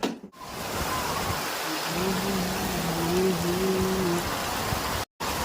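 Rain pours steadily in Mumbai, a dense, even hiss filling the space from start to end with little change in loudness, while a voice hums or speaks faintly in the middle.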